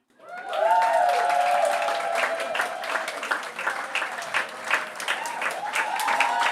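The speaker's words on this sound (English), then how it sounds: "I can hear that applause faltering." An audience at a spoken-word poetry night applauds a performer walking up to the stage. The clapping swells quickly into dense, sustained sound, with a few whoops and the host's voice over the top.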